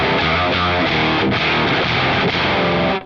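Electric guitar played through a Joyo Orange Juice overdrive pedal with the level turned all the way up, giving a loud, dense, saturated distorted tone that is held steadily for about three seconds before cutting off.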